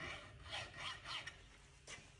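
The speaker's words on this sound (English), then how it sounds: "you can actually sand and not mess your wood up and not mess your finish up" Sandpaper rubbed over guitar wood, a soft dry rasp in several repeated strokes, fairly quiet and close, with no talking.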